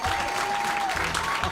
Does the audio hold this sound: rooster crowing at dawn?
no